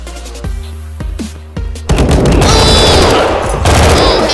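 Rapid automatic gunfire in a shooter video game, loud and close: a few separate shots open, then a dense, continuous burst of fire for the remaining seconds.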